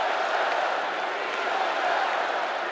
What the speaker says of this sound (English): The crowd gave him a standing ovation that lasted nearly 5 minutes.